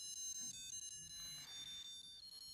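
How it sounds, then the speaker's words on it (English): Electronic melody beeps from a 1981 Zeon 007 James Bond digital watch alarm, a thin high-pitched tune of quick stepped notes playing steadily and faintly, alone with no voices. "you can play the tune while it's in time mode if you go to your alarm and turn off the bells"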